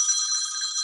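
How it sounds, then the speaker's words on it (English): A phone rings during an online meal-planning group call. The ring is a brief, steady, high-pitched electronic trill heard alone at moderate volume, with no voices. "Why is this ringing?"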